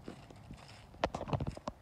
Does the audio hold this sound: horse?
yes